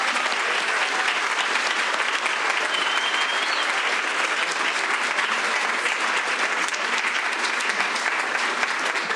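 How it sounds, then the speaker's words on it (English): A Board of Education meeting audience gives a round of applause for outstanding academic all-state students. The clapping is thick and even from many hands, steady and loud throughout with no talking over it. "please give these outstanding students a round of applause"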